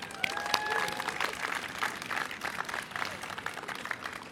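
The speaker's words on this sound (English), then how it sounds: "Can we first give another round of applause to the young people who came out today?" An audience claps for young people at a celebration, a moderate, fairly distant patter of applause that holds steady throughout with a few faint cheers.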